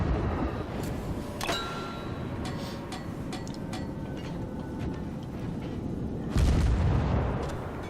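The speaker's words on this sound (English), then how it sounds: "So you see that torpedo completely wrecked that guy" A torpedo strike from a US destroyer wrecking an enemy ship in World of Warships, heard as a dull booming impact that rises into a heavy rumbling blast near the end, set within continuous naval battle noise with scattered sharp crackles.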